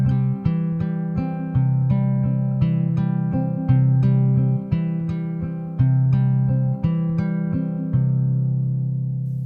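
Fingerpicked guitar in a lilting 6/8 pattern played with three fingers, with plucked bass notes alternating against higher strings. Close and clear, the rhythm is steady, and the last chord rings out and fades.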